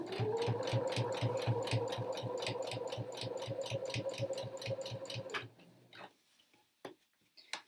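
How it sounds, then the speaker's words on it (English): A sewing machine top stitches scrubs trousers in a fast, even run of mechanical ticks and whirring for about five seconds. It then stops, leaving a few faint clicks and handling noises. "So I'll just do this top stitch."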